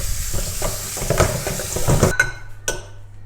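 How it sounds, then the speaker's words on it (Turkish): Soup bones for oven-roasted marrow are rinsed under clean water, making close splashing, trickling and clattering against a metal pot in uneven bursts before the water cuts off near the end, with no talking. "Kemikleri başta temiz sudan geçiriyoruz."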